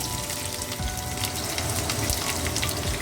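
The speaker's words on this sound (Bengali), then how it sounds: "কড়াইতে পনিরের জন্য জিরে, তেজপাতা আর 2-1টা গরম মশলা ফোড়ন দিয়েছি, দিয়ে আলুটাকে জাস্ট ভেজে নেব" Potatoes fry in a hot wok with cumin seeds and bay leaf, giving a steady, even sizzle and crackle of oil, close and constant with no voices.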